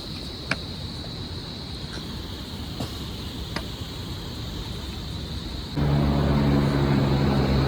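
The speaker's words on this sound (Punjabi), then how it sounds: "ਹੈਲੀਕਾਪਟਰ ਜਾਣ ਡਿਆ ਉੱਪਰ ਇਹ ਗੋਬਿੰਦ ਘਾਟ ਤੋਂ ਗੋਬਿੰਦ ਧਾਮ ਤੱਕ ਜਾਂਦੇ ਨੇ" A helicopter flies up the mountain route from Govindghat toward Govind Dham, a steady droning hum over outdoor trail ambience that suddenly grows much louder and closer near the end.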